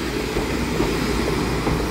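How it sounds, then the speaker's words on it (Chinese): An R174 diesel-electric locomotive hauling five blue passenger cars at Dali station on Taiwan's Yilan line gives off a loud, steady broadband rumble and engine drone that stays constant with no distinct events. "子敬你看哦，5节蓝皮文博号"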